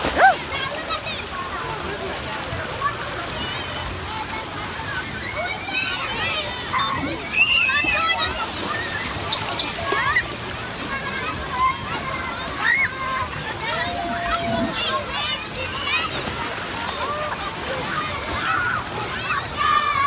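Busy water park pool with constant sloshing and splashing as a baby tries to swim, children's voices and adult chatter mixed throughout over the running water.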